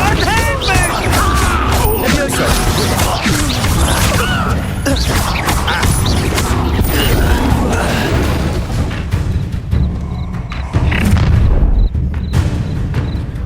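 Fiery spell blast from the Hogwarts Legacy video game, a loud dense burst of booming, crashing impacts layered with battle effects and voices, continuing thick and busy throughout.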